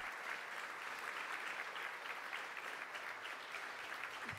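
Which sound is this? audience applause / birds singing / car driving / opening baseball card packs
audience applause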